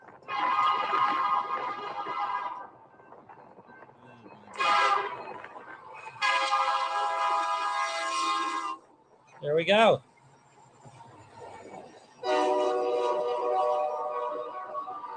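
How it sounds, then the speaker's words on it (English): A freight train led by snow-covered engines from Wyoming sounds several long, loud horn blasts up close as it passes, with a brief squeal in between and people talking in the gaps. "This is the Z train."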